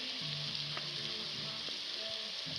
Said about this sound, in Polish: Nienawidzę jak pada deszcz.